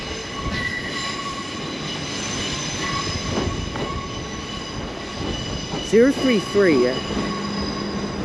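A c2c train at London Fenchurch Street station, a steady rumbling hum of the rail car with a brief cluster of squealing wheel tones near the end, and a voice speaking over it.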